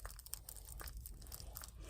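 An animal gnawing on something beside a dome greenhouse on an off-grid homestead, with close, crunchy, irregular chewing bites over a steady background hiss.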